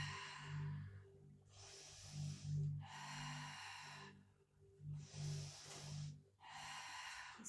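Slow, deliberate breathing during a Pilates lateral-chain strengthening session, with several audible inhale and exhale cycles, close and soft, with no talking over them.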